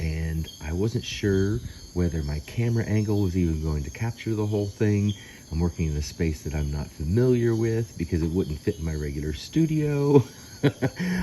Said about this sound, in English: I hope you enjoy hearing the tree frogs in the background